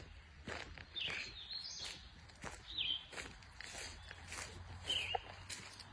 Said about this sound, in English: we'll listen to the birds just a minute. The evening birds.